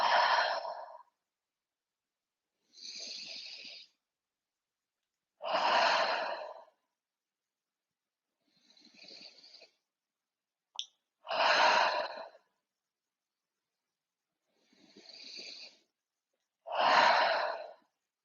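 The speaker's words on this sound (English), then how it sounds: "inhale through nose and exhale through the mouth" Slow breathing exercise during a yoga session for the legs: about four rounds of a nasal inhale followed by a longer, fuller exhale through the mouth, close and clear, with silence between breaths and no talking.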